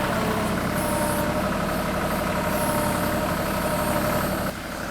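A TYM 2515H compact tractor engine running steadily near a creek crossing, a loud continuous diesel rumble close by that drops slightly just before the end, with no voices.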